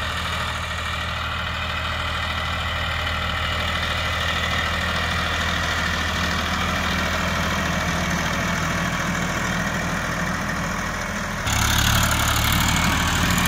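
Tractor engine running steadily while pulling an MB plough through a field, a loud, continuous low drone that grows louder and rougher near the end, with no talk.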